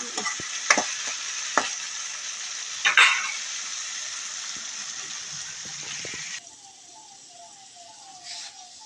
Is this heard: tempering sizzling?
yes